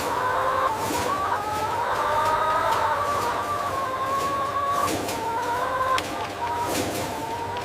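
A large flock of broiler chickens in an indoor factory house clucks and squawks continuously nearby, many overlapping calls forming a dense, steady din with no voices.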